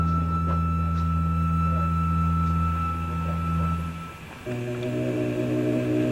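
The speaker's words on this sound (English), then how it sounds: "At the age of 60, he can still sing 3 tones simultaneously." Sixty-year-old Tibetan chant master singing several tones at once in a deep, sustained drone, close and steady, with a shift in pitch near the end.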